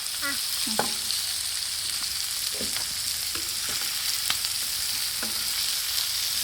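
River fish frying in a pan, a steady bright sizzle running throughout with occasional scraping stirs and faint bird-like chirps in the background, no talk.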